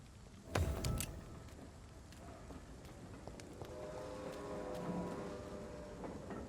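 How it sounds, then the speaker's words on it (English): A train passes in the video game Vampyr, a dark low rumble with a sharp thud near the start, then a long steady roll with faint metallic ringing tones at moderate level. "Oh, that was a train."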